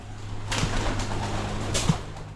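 Soft pigeon coos sound a couple of times over a low steady hum, with faint rustling in between.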